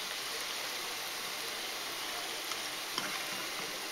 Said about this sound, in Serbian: Ne smete mnogo dugo da ga pržite, da ne zagori, morate malo da okrećete ovako.